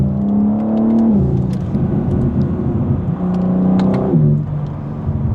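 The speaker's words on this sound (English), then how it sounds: "I'll show you guys on the upshifts now." A BMW G82 M4 engine revs up and drops sharply at each quick upshift, about three rising pulls in a row from inside the car, steady and fairly loud with no talking.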